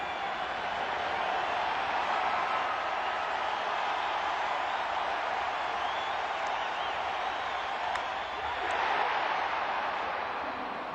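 A capacity baseball crowd at Wrigley Field during a Brewers at Cubs game roars with a broad, sustained cheer that swells slightly near the end, heard from a distance.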